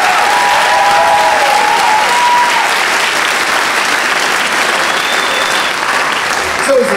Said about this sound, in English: Let's go ahead and give a big round of applause for all of these students.